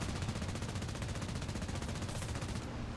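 A ZiS-30 tank destroyer in the War Thunder video game fires its machine gun in a continuous rapid stream of gunfire. The shots come dense and steady throughout, filling the whole stretch with no pause.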